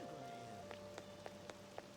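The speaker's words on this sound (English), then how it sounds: "When's the rain gonna let up?" Soft, steady rain falls in the video game Persona 5 Royal, with a few faint scattered drip taps over a low, quiet background hum.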